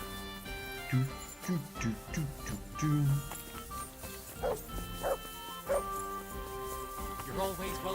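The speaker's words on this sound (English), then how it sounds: "What are you barking at, Mutt?" A dog in the medieval video game Kingdom Come Deliverance 2 barks and yips repeatedly in short bursts over game music, with a person talking over it at times.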